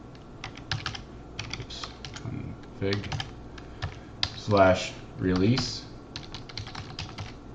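Computer keyboard typing on a Windows 10 PC, bursts of quick light key clicks in uneven runs, close and moderately quiet, with a person speaking briefly between keystrokes.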